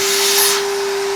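A Hoover Junior 1334A upright vacuum cleaner runs loudly and steadily close by, its motor giving a constant hum with a prominent tonal whine and a rushing airflow hiss that swells briefly before settling.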